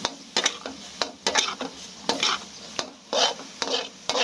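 Basil stir-fried with egg, yardlong beans and dried chili in a pan, a low sizzle under frequent sharp scrapes and clacks of a spatula stirring in an irregular rhythm.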